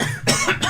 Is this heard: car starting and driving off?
no